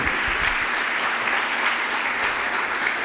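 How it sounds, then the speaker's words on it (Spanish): A church congregation gives strong applause during a sermon, a full, steady roar of many hands clapping that carries evenly throughout with no speech over it. "Alguien tiene que darle un aplauso fuerte a nuestro Señor Jesucristo"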